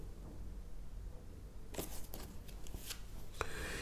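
Tarot cards being shuffled and drawn for a weekly horoscope reading, a burst of crisp riffling and flicking card sounds after a quiet start, close and moderately loud.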